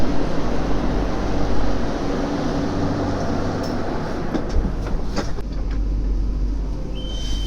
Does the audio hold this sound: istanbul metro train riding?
yes